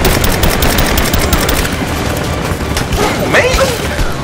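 Rapid gunfire bursts from the Tomb Raider video game crackle densely and loudly throughout, mixed with game effects.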